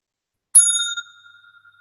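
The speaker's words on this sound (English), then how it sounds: "For all the speakers, I want to test the bell." A single bell is struck once to test it during an online educators' meeting, giving a bright ring with a long fading tone in otherwise silence.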